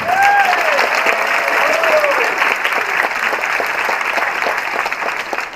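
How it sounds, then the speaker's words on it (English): Warm, dense applause from a crowd at a high school academic achievement celebration, loud and continuous clapping throughout with a faint whistle-like tone early on. "So would you please give a warm round of applause to your biggest cheerleader, Mr. Charlie McLean."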